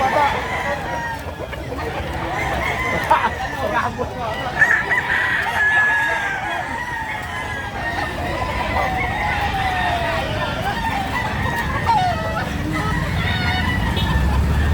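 A native rooster crows repeatedly over a busy outdoor backdrop of chatter and general noise, its calls loud and drawn out.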